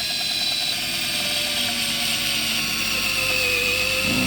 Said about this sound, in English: Drilling right the way through